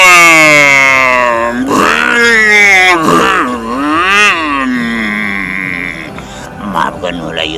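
A man vocally imitates a broken-down motorcycle, producing loud, sustained droning and groaning tones that rise and fall in pitch over several seconds, close to the microphone, with sputtering breaks near the end.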